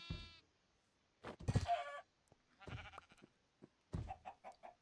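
Chickens in the Minecraft video game giving short, faint clucks and squawks in a few separate bursts, with quiet gaps between them.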